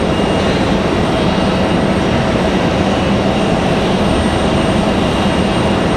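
Aeromexico jet lining up at Raleigh-Durham International before departing for Mexico City, its engines a loud, steady broadband roar that holds evenly throughout with no voices.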